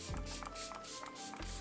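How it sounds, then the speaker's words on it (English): Makeup setting spray mists out in several quick, soft pumps, close and quiet, with small mechanical clicks between the hissy bursts. "Setting spray once again."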